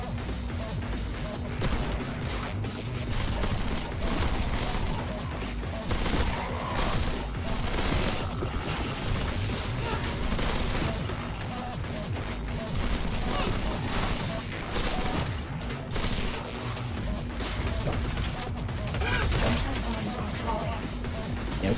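SMG fire in the dystopian sci-fi shooter Sprawl, dense bursts of rapid gunfire with crashes and impacts throughout a busy fight, mixed with someone talking.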